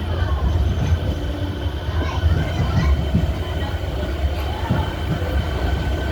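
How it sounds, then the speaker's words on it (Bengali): An AC EMU local train pulls out of Krishnanagar station platform toward Sealdah, a continuous rolling rumble with faint wheel clatter and squeal, heard amid crowd chatter nearby. "আর এদিকে এসি লোকালও ছেড়ে চলে যাচ্ছে"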